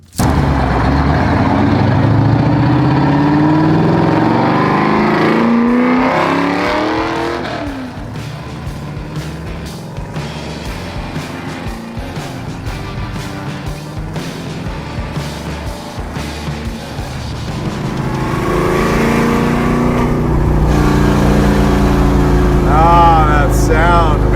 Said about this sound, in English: So let's jump in with Brian, go for a little ride, and give you a sense of just how cool this Torino really is.